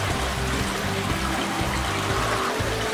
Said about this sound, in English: that's where I'm starting to get water that's overflowing